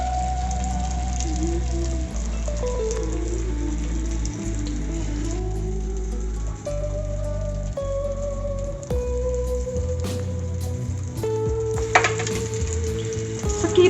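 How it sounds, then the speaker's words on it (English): A pinwheel samosa, made with potato and green peas, fries in a pan over a low flame, giving a steady close sizzle and crackle throughout with occasional soft pops and light taps, and no talking. "am going to place this samosa on the pan. You have to cook in low flame"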